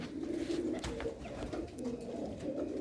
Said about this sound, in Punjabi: ਇਹ ਐ ਸ੍ਰੀ ਹਰੀਗੜ੍ਹ ਦੇ ਵੱਡੇ ਕਬੂਤਰ